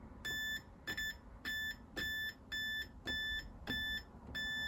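A multimeter continuity tester beeps in a regular series of short, high, evenly spaced tones on a Dragon 32 computer board, faint and close, with no talk.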